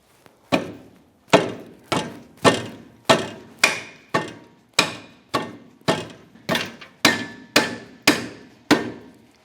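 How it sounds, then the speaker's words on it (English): Steel bolt hammered through the rear trailing arm of a 2008-2013 Nissan Rogue: about thirteen loud, sharp metallic blows at a steady rhythm, each ringing briefly before the next, with no talk. "give it a couple of bonks through till it comes through."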